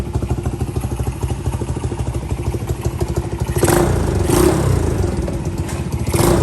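Small Honda S65 motorcycle engine with the exhaust baffle removed, running loud and close with a rapid, uneven single-cylinder putter that swells into brief revs partway through.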